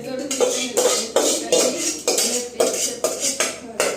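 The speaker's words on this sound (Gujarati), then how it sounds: "હવે સરસ મજાનું હલાવી દઈશું." A spoon stirring curd into a cluster bean and potato curry in a metal pan, giving repeated rhythmic scraping strokes with clanks roughly every half second, close and fairly loud with no speech.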